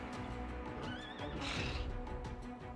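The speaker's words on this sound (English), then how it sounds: "Evil undead horses." Undead horses in the video game Pathfinder: Wrath of the Righteous let out a loud, wavering whinny over a dense rumbling backdrop, with a hoof clop and no talking.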